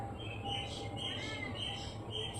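Soft, repeated high chirps from a young dove being fed, several short calls spaced through the clip over a steady low hum.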